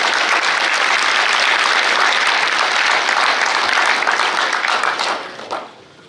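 Dense, sustained audience applause fills a political rally hall in Thonon, France, holding steady and loud before tapering off near the end.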